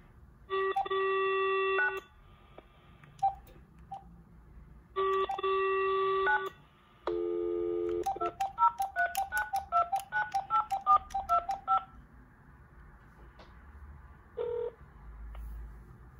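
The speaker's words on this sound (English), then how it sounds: "We will dial the Farmer Jones." Touch-tone dialing on an AT&T EL52303 DECT 6.0 cordless phone with digital answering system: two long steady tones, then a quick run of about a dozen short DTMF beeps, loud and close, with a brief tone near the end and no talking.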